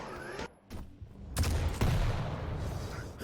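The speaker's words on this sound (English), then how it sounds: "The shotgun." Shotgun blasts in a competitive arena shooter video game, several quick, punchy shots in a brief flurry amid other game effects.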